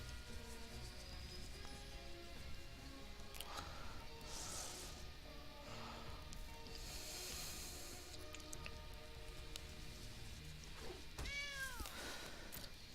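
A cartoon cat meows in MTG Arena as a creature card is cast, short layered mews over busy game music, with a rising chime-like flourish near the end.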